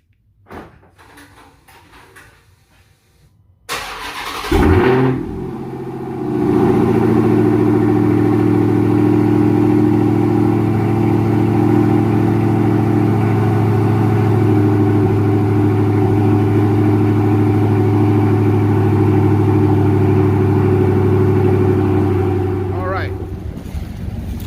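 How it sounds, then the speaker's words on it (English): A 2021 Dodge Charger Hellcat widebody with a muffler delete, rear resonator and 5-inch tip cold-starts with a sharp bark, then settles into a loud, deep, steady rumbling idle that runs on alone. "So this car has been started overnight with the muffler delete, rear resonator still on, and a 5-inch tip."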